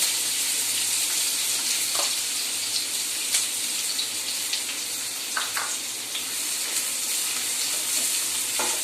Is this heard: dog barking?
no